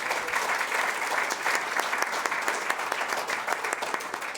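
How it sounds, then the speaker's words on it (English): Steady audience applause fills the room at an LNG project announcement, a dense continuous wash of many hands clapping at even loudness with no voices standing out. "They truly deserve a round of applause for the amount of amazing work they have done."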